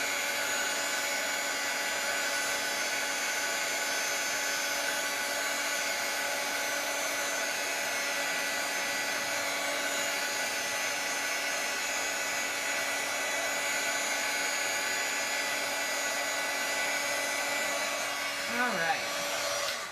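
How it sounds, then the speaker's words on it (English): A hair dryer blows steadily and loudly at close range to dry the back of a watercolor card, a continuous whirring whine that holds for the whole stretch before cutting off, with a brief word spoken near the end. "I'm going to dry the back a little bit"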